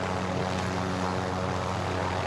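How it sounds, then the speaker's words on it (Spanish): Helicopter flying in a video game, a steady loud rotor and engine drone with a throbbing low hum that holds constant throughout, close and continuous with no talk over it. "Agarramos el helicóptero."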